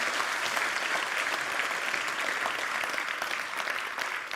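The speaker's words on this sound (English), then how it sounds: "Please give him a huge round of applause." Steady, dense applause from a large audience at a live sustainable cooking competition grand final, loud and continuous throughout with no talk over it.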